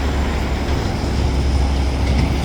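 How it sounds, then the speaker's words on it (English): A freight train with tank cars rolls past nearby, a loud continuous low rumble with faint rail clatter and squeal, no voices over it. "Oh yeah, tank cars here."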